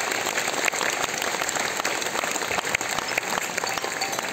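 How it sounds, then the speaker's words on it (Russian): An audience at a business event applauds continuously, a dense wash of clapping with individual sharp claps standing out, fairly close and even in level. "Давайте поаплодируем"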